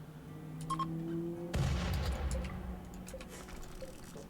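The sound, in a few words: explosion of spacecraft impact in a video game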